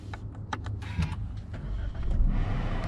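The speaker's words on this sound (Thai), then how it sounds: "ก็เหยียบเบรกนะครับแล้วกดปุ่มพุชสตาร์ตรงนี้" A 2020 Suzuki Ertiga GX starts by push button: a few sharp clicks and mechanical taps come first, then the engine cranks and catches into a steady low idle heard close inside the cabin.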